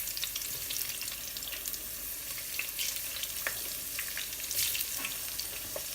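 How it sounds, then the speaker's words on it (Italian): Steady crackling sizzle of zucchini frying in a pan, with a few sharper pops and spatters rising above the constant hiss. "Andiamo a friggere"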